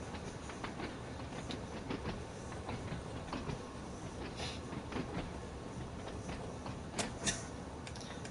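A Class 483 EMU electric train in Train Sim World 2 runs along the track with continuous rolling noise and a steady rhythm of clickety-clack wheel beats over rail joints.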